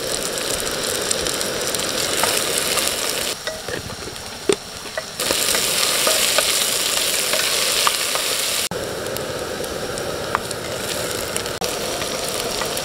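Raisins and cashews fry in hot oil in a pot for a pulao, giving a steady loud sizzle throughout with brief quieter dips and small pops, with no talking.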